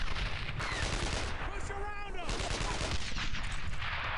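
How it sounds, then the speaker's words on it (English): Gunfire and a grenade blast in the World War II shooter Brothers in Arms: Earned in Blood, with a dense, continuous barrage of shots and explosions and a brief voice partway through. "Watch out! I'm throwing a grenade! Fire in the hole!"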